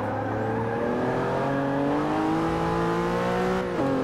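Porsche 911 Turbo S in Forza Motorsport 6, engine droning loud and steady at high revs with harmonics slowly rising, then a quick dip and recovery near the end as it shifts gear; no talking.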